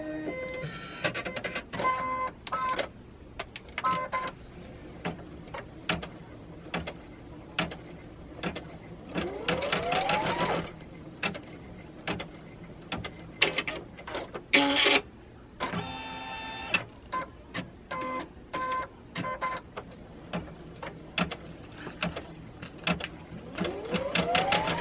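A home embroidery machine stitches placement lines for a vinyl luggage tag in the hoop, a steady run of rapid mechanical needle clatter with short pauses and whirring moves between stitch runs, close and alone.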